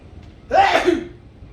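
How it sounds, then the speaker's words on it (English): A single sharp sneeze bursts out close by, a quick intake and explosive release lasting about half a second, then quiet. "I'm about to sneeze"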